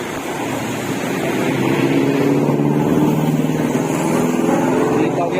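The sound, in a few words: HS Bungsu bus maneuvering to park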